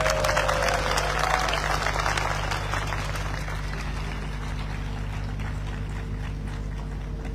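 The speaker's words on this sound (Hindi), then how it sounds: "ताली बजाओ" An audience claps together at a crowded public gathering in Dehradun, a dense and steady wash of applause that stays loud and even from start to finish.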